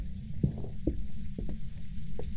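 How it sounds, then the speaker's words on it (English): Double skipping heartbeat from the ghost-hunting video game Phasmophobia, a few low soft thumps in an uneven throbbing rhythm over a steady background hum. "It was like a double skip heartbeat."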